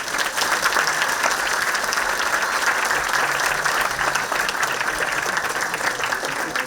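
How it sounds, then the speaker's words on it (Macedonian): Dense, steady applause from a large audience, continuous and even throughout. "Ќе ве замолам за уште еден аплауз"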